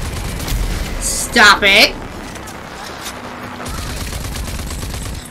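Rapid bursts of gunfire in the shooter game Rage 2 rattle through most of the stretch, with a voice briefly cutting in over the shooting partway through.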